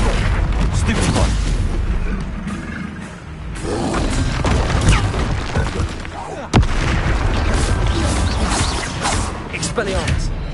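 Stupefy stunning spell cast in the video game Hogwarts Legacy, heard as loud booming crashes and thuds in a dense, chaotic burst, with one sharp impact near the end, mixed with shouting voices.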